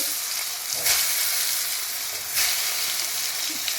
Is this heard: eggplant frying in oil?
yes